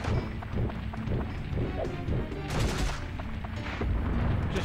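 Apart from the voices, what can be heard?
bombs exploding in video game Dark Cloud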